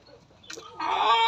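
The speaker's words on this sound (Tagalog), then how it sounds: "halo-halo yung ating mga manok" Mixed flock of Indonesian black chickens and Rhode Island chickens, about four months old, kept in a backyard cage: a soft cluck, then a louder, sustained squawking call rising up close.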